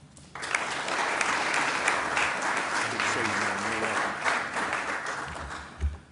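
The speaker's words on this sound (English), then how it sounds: "give a big round of applause" A crowd bursts into applause at a university groundbreaking ceremony for a coal and biomass fuel facility, loud sustained clapping from many hands with voices faintly audible beneath, fading near the end.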